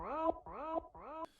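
Three quick repeats of a filtered, pitched-up and reversed stock FL Studio vocal 'go' sample, each swelling into a sharp cutoff, up close with nothing else.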